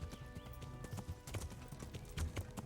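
Horse hooves in the medieval game Kingdom Come: Deliverance, a quiet steady clip-clop of a trotting mount with faint ambient tones behind, no clear speech.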